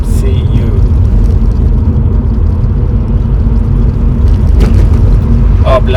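Subaru Levorg 280 hp car cruising on a road in Central Kenya, a steady loud low rumble of engine and road noise filling the whole stretch from inside the cabin, with a voice speaking over it.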